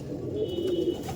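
Soft, low pigeon coos rise from a loft full of birds, one throaty call standing out near the middle against a steady murmur.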